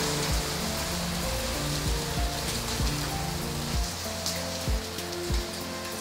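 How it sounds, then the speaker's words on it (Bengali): Heavy rain pours down steadily at a mountain village in East Sikkim, a dense close wash of drops with occasional louder splashes and no voices. "কোথা থেকে নেমে পড়লো ঝমঝমিয়ে বৃষ্টি"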